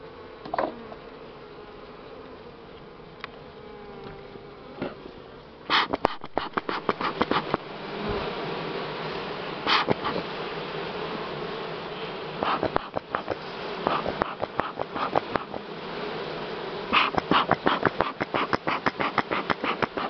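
Buckfast honey bees hum around an open hive during honey harvest, a continuous buzzing joined by close bees darting past the microphone, with repeated sharp clicks and knocks from hive work in the second half.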